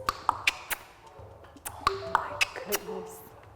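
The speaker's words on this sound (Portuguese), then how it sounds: "Então, todos os 5 cliques, se você os disser de uma só vez, soam assim." A voice produces five click consonants in a rapid series of sharp tongue clicks and pops, each a crisp percussive snap, some with brief vowel sounds between.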